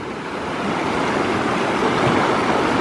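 Continuous broadband rush of a mountain stream flowing over rocks in the Northwest Vietnam highlands, steady and close with a slight swell in loudness, no voices.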